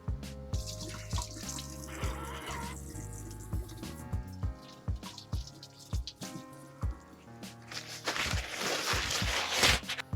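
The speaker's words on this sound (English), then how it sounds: "let me wash my hands again" Hands are washed under a running kitchen tap, water splashing into a sink with scattered drips and clatter, moderately quiet and close, growing to a fuller gush near the end.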